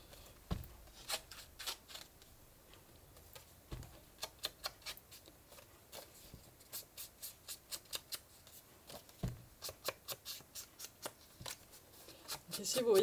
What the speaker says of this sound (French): Je passe comme d'habitude de l'encre sur les tranches de mon papier.